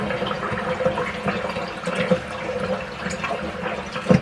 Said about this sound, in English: I almost forgot to drain the water.